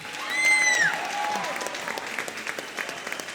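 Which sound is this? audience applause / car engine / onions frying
audience applause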